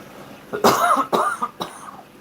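Three harsh coughs in quick succession, close and fairly loud, with no talking.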